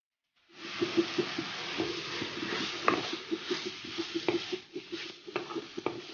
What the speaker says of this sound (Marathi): दोन चमचे तूप घातलेले त्याच्यात मी हा गाजराचा किस जो आहे तो घालून घेणार आहे